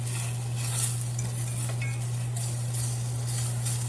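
A frying pan with oil shifted around on an unlevel stove, with continuous sizzling and faint metallic scraping over a strong steady low hum.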